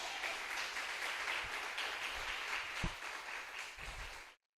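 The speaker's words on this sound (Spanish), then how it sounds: "Aplauda al Señor." A church congregation applauds during a Spanish-language Thursday service, a faint, steady wash of clapping with a few heavier thumps, cutting off abruptly after about four seconds.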